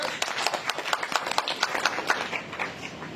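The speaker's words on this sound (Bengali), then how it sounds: "তাই আপনাদের সবার জন্য একটা জোরে করতালি হতে পারে" An audience at a talk before leaders breaks into applause: dense, steady clapping from many hands, close and fairly loud, continuing throughout with no one speaking over it.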